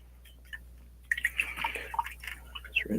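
A paintbrush swishes and taps in a small cup of water, making close, light splashes and drips in quick irregular bursts after a brief near-silent start.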